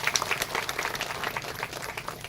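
Audience applause for an honored guest at a spiritual yoga retreat gathering, a steady wash of many hands clapping throughout, moderately loud and continuous with no speech over it.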